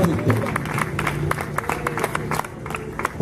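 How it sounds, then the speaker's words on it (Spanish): Church congregation clapping during a Spanish-language sermon, a fairly loud patter of hands with a voice and background music underneath, steady across the short stretch. "Vamos a dar un aplauso a Cristo."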